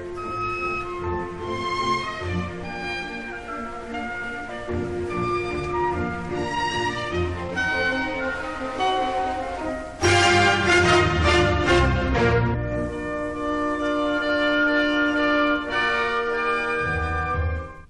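A full orchestra plays a passage from Beethoven's Eroica Symphony in a version with transitions 2 and 3 left out. The music is continuous and grows louder and fuller midway, with no talking.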